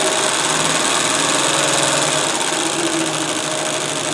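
A vintage sewing machine motor hums steadily at reduced, halved speed, a constant close mechanical whir with a faint high whine and no speech.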